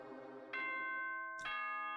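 A two-tone school broadcast chime from the video game Danganronpa 2 sounds over a low hum, with a bright first note followed about a second later by a second, sustained bell tone.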